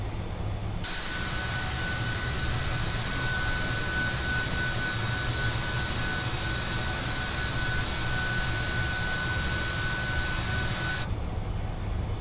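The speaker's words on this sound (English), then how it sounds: "you only need a little bit of thrust, like this, in order to get the airplane taxiing" A Fokker 28 airliner's jet engines in a flight simulator, spooled up with a little thrust for taxiing: a steady, loud whine and roar with a high tonal hum over low rumble that holds for about ten seconds, then drops away.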